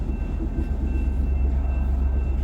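A train hauled by a GE AC4400 locomotive passes close by, a loud, steady low rumble with a throbbing rhythm and a faint high whine above it.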